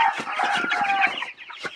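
A flock of 21-day-old broiler chickens on a poultry farm clucks densely and continuously, many overlapping chattering calls close by, without speech.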